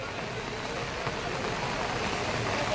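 Rain falls steadily at the Har Ki Pauri ghats in Haridwar, a broad, even hiss of downpour with no gaps and no voices.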